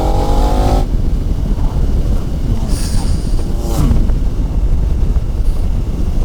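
A 2015 KTM 1290 Super Adventure motorcycle engine drones loudly under heavy wind rush, with a couple of brief throttle blips rising above the steady roar while riding.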